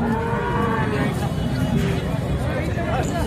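A cow moos steadily at the Sangola cattle market, over a low murmur of background voices and farmyard noise.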